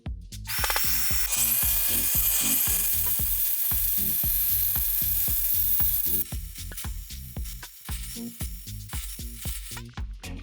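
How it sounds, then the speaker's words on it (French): Angle grinder fitted with a diamond disc scratching the surface of floor tile, a steady high whine with repeated rhythmic ticking that drops off partway through, then continues as intermittent knocks. "on va utiliser une meuleuse avec un disque diamant et on va juste venir le rayer"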